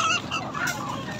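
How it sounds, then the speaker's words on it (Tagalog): Ducks at the San Carlos livestock and pet market in Pangasinan: a couple of quick nasal honking quacks nearby, short and loud, over market background noise. "itik, pato."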